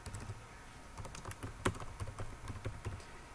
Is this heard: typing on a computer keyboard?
yes